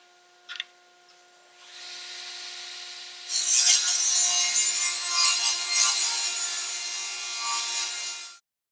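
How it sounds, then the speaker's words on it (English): Table saw starting up and cutting wood in a workshop: a short click, then a rising motor whine, then a loud, bright, rasping cut lasting several seconds before it stops abruptly. "we'll be turning on the table saw and cutting some wood"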